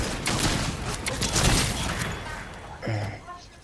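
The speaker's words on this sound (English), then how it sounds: "I'm gonna shoot the NPC up." Rapid gunfire in an online shooter video game aimed at an NPC, a burst of quick shots over the first two seconds followed by a lone shot near the end, mixed with a player's excited voice.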